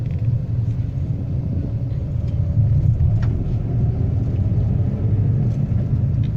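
A Maruti WagonR AMT car engine held at about 2000 RPM in fourth gear: a steady, loud, low rumble from inside the cabin, continuous and even throughout with no voices.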